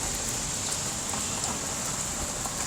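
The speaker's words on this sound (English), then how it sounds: "Dang, sucks doing this in the rain." Steady rain falls outdoors around a Toyota Tacoma during a roadside tire plugging, a continuous close hiss of drops spattering on surfaces with no voices.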